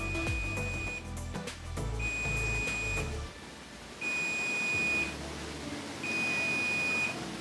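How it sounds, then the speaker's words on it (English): An automatic hair curler gives a run of short, high, evenly spaced beeps, repeating at about one-second intervals up close and clear over a low background hum. "I'm gonna push it down and see how long it takes to beep."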